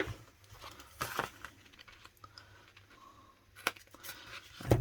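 Paper strip for card making being cut off, with sharp snips and crinkling rustles in a few separate bursts against a quiet background.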